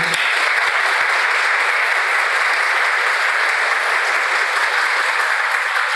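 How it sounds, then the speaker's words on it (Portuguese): Loud, dense applause fills a church during an organ blessing and farewell for the priest, a continuous roar of many hands clapping at an even level for the whole stretch. "Uma salva de palmas, por favor."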